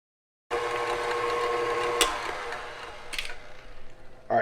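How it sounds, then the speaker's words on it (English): An electric mixer whirs steadily as it beats two egg whites in a bowl, a close, even mechanical buzz with a faint click partway through. "We will put this in our mixer and turn it on and get them beat up just a little bit."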